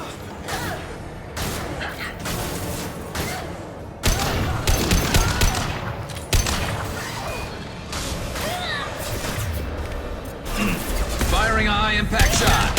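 Gunfire from a high-impact shot in Mass Effect 2 Legendary Edition: dense, repeated bursts of shots and impacts across the whole stretch, loud and busy, mixed with game voices and other action sounds.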